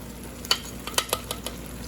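Marinated pepper steak strips sizzle in a pan for a stir fry while a utensil stirs them, a soft frying hiss broken by several sharp scraping clicks at an irregular rhythm, close and without talk.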